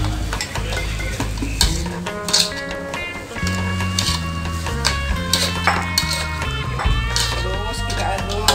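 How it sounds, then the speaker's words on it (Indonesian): Green fried rice with shrimp, mustard greens and chilies is stirred in a pan: a steady, close sizzle with repeated scraping and clinking strokes, and tonal background sound running underneath. "Terus kita aduk."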